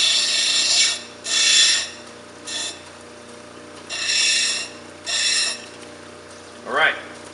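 Wonderstone cabochon having its back side beveled against a grinding surface: five rasping, scraping passes of about half a second each, separated by pauses, ending with a short rising squeak.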